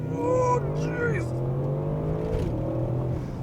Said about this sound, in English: we're going to have a little spin just to show you the acceleration point